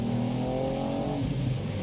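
A 2018 Ford Fiesta ST driving briskly, its engine note droning steadily with harmonic tones that rise and shift, close and loud throughout with no talk.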